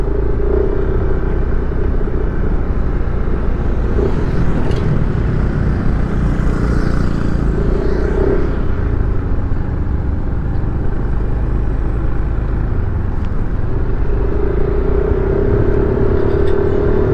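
Yamaha NMAX scooter in its break-in period rides along, its engine a steady, loud, continuous drone with road rumble and wind, no voices.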